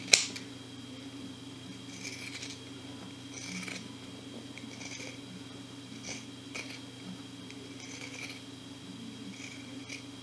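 Scissors trimming thick Sherpa fabric close to a sewn seam on a bootie: a series of soft, regularly spaced snips about a second apart, close by, over a steady low hum with no talking.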